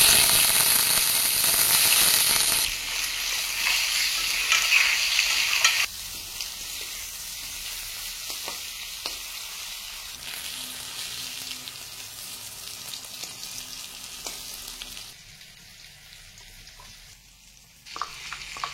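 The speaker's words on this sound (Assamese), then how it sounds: "এতিয়া এই ভাতকেৰেলাখিনি, বইল কৰা ভাতকেৰেলাখিনি অকণমান ইয়াতে ফ্ৰাই কৰি ল'ম মই।" Boiled bitter gourd fries in oil with turmeric in a wok: a loud crackling sizzle at first, then a quieter, steady frying hiss with scraping stirring strokes and occasional clinks, and no voices.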